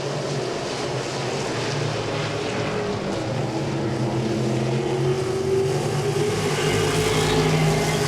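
Modified race cars roar down the back straightaway at Langley Speedway, a loud, continuous blend of engines that swells slightly as they pass.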